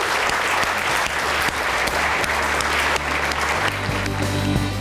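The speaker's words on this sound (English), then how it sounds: "I think we just should give ourselves a big round of applause and call it a day." Audience applause closing a design thinking session at a startup week event, dense steady clapping from a crowd throughout, with some low background hum underneath.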